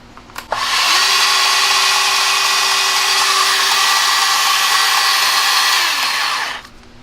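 A RIDGID 18-volt compact cordless band saw spins up after a click and cuts through thick metal, a loud steady whirring and grinding held for several seconds at close range before winding down.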